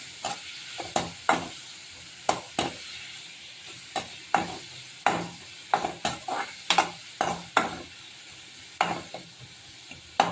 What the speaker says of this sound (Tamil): இஞ்சி பூண்டு பேஸ்ட்டு போட்டு நல்லா பச்சை வாசனை போக வதக்கிக்கணும்